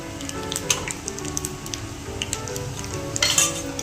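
Turmeric fries in hot tempering oil in a home pan as idli pieces wait. A steady soft sizzle plays under light stirring and occasional clinks of a utensil against metal, with no voices.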